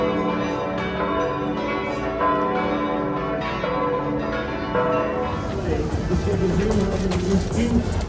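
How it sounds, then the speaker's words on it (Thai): The bells of St. Stephen's Cathedral in Vienna strike the hour. Their sustained ringing tones layer and overlap, loud and fairly near, over a busy city background that grows noisier toward the end. "ทุกๆ ชั่วโมงเนี่ย เขาจะมีการตีระฆังเพื่อบอกเวลา"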